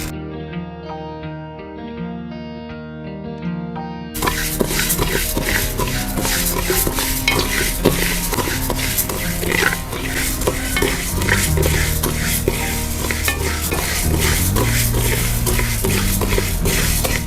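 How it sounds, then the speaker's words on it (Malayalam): Continuous dry scraping and rustling as grains of rice are stirred and tossed in a hot pan, with music playing in the background. "നമുക്ക് ഇതിലോട്ട് കുറച്ച് അരി ചേർത്ത് വറുത്തെടുക്കാം."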